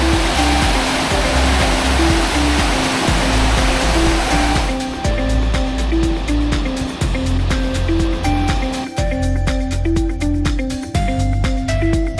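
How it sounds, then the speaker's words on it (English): A major set of rapids on the Bonnet Plume River in Yukon roars loud, close and unbroken, with churning whitewater filling the whole stretch. "scoping out the first kind of major set of rapids on the Bonnet Plume"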